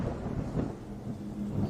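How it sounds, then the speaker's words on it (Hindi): Thunder rolls outside a window during a nighttime rainstorm, a low continuous rumble with steady rain hiss, heard from inside a room without any talking. "खिड़की से बारिश की चीख की आवाज कमरे के अंदर तक आ रही थी।"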